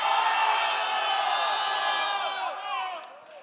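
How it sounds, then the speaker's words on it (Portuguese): A crowd at a rap battle semifinal in Amazonas roars, whoops and cheers loudly in one sustained burst that slowly fades, with whistles and shouting voices rising through the noise. "Só quem gostou da rima do Hope faz barulho"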